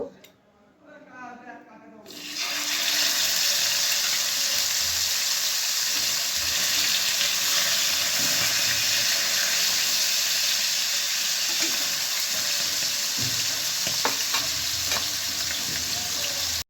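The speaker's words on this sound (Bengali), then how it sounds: "তো তেল গরম হয়ে গেছে, এবার আমি মাছগুলো দিয়ে দেব।" Tengra fish dropped into hot salted oil in a home kitchen: after a quiet moment with light clatter, a loud, steady sizzle and crackle of frying starts and goes on without letup, with occasional sharper pops.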